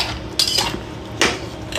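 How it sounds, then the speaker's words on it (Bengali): A metal spoon scrapes and clinks against a cooking pot as meat is stirred at home, with two sharper knocks over a steady low kitchen hum. "কত মাংস নাড়ানো হয়ে গেল"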